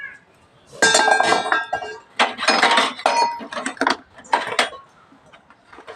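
Brass pots and vessels clink and clatter against each other in several close, bright bursts separated by short pauses, loud and sharp with no talking.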